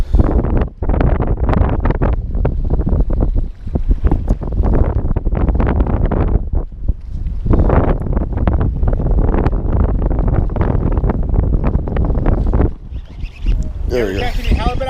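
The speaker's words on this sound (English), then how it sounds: "The wind." Strong wind buffets the microphone on a small boat out on the bay during a fishing trip in high winds, a loud continuous roar with gusts, while people talk over it throughout.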